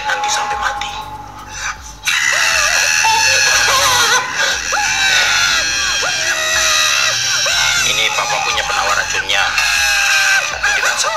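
Children scream and shout loudly in front of a house, sustained, high-pitched yelling that continues almost without pause after a quieter opening.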